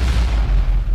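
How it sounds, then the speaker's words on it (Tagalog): A huge explosion erupts from the ground, heard as one sustained, heavy low-end boom that rumbles loud and close for the whole second, with no voices over it. "isang dambuhalang pagsabog ang lumitaw mula sa lupa"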